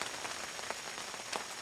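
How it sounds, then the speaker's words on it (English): Rain pattering steadily at a forest campsite, a soft, even hiss of drops on surfaces with scattered louder taps, fairly quiet and close, no voices. "I don't know if you can hear it or not, but it's raining."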